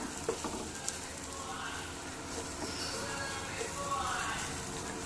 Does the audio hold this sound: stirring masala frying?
yes